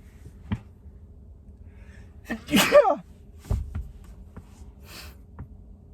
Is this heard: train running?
no